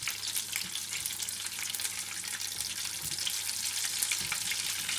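Feta cheese spring rolls fry in hot oil with a continuous bright sizzle and crackle, steady and close, with no talking.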